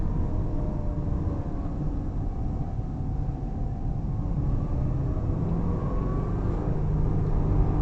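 A 2007 Subaru Impreza 2.0 with 160 HP drives through a city at night, its engine producing a steady low rumble and road hum that stays continuous and fairly loud throughout, with no talking.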